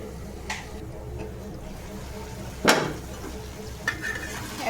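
A spoon stirs shrimp and taro stolon curry in a pan, giving a few soft scrapes and one sharper clank over a low steady sizzle, close up.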